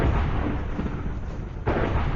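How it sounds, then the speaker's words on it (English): A creature bursting apart in a chaotic Middle-earth fantasy battle video game, heard as a continuous loud rumbling blast that swells again near the end, with no talk over it. "Watch him explode, watch."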